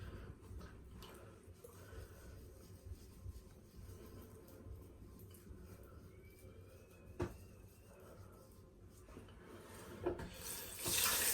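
Cold water runs from a tap into a sink while a banana and honey face mask is rinsed off, a quiet, steady trickle broken by small splashes and wet rubbing. A sharper splash comes near the end.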